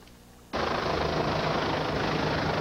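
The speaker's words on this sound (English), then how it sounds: "22-year-old Candace Crossland was taken by Samaritan Air Evac Helicopter to Scottsdale Memorial Hospital" Samaritan Air Evac air ambulance helicopter in flight, a loud steady rotor and engine roar that cuts in abruptly after a quiet half second and holds constant and close.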